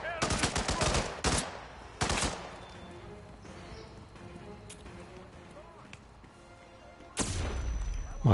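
Gunfire breaks out in Hitman 3, with a loud rapid burst of shots at the start, another sharp volley soon after, then quieter ambience before a final heavy burst near the end.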